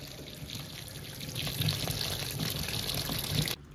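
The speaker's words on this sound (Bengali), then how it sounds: "ওয়াশিং মেশিনটা এবার চালাবো, তবে আর একটু জল দিতে হবে।" Water running into a washing machine, a steady close splashing pour that grows fuller partway through and cuts off abruptly near the end.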